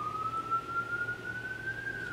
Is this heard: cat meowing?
no